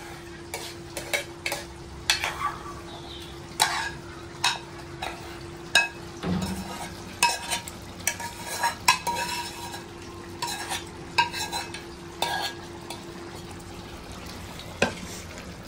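Gongura leaves being stirred into chicken curry frying in a pan, with repeated scraping and clinking of a spoon against the metal pan over a steady low sizzle, close and unaccompanied by talk.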